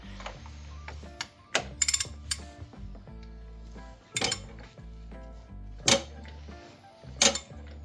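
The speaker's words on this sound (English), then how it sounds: "I'm gonna spin the crankshaft to put the camshaft in the position for the valve adjustment" The crankshaft of an Alfa Romeo 166 Busso turbo engine is turned by hand with a tool, giving quiet, sparse metallic clicks and clanks with a few louder sharp clinks in between.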